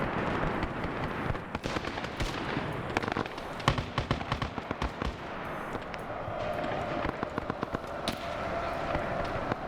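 Mortar fire in a military video game, heard as a dense run of sharp explosive cracks and thumps, some close and loud, others farther off, in steady irregular bursts.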